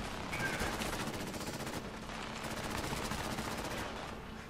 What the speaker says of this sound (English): Like something shooting at me from behind